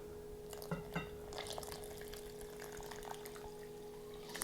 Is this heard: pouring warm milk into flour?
yes